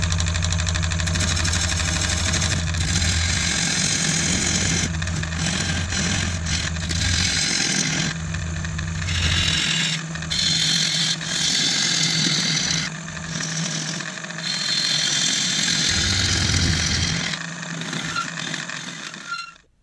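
Continuous whirring hum of a wood lathe spinning, with scraping and cutting noise rising and falling as the tool bites into elm.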